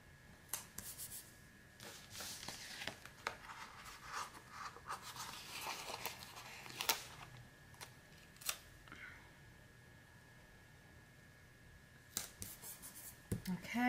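Scissors snip through Rak Paper sticker sheets in a quiet planner-decorating session, with soft crisp cuts and paper rustles scattered across the clip, a few sharper snips standing out near the end.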